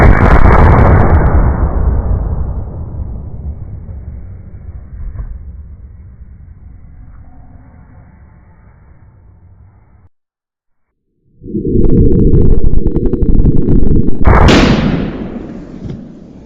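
Loud, close lever-action rifle shots fired at a target: one heavy blast rolls off into a long fading echo, then after a brief silence another sharp report booms and rings out.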